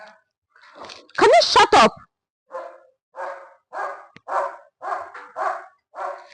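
A dog barks loudly once at close range, then a series of shorter, softer yips and bark-like sounds follow at a steady pace, with a person's voice speaking between them indoors.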